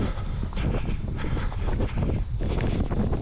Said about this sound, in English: It's quite a cool breeze blowing.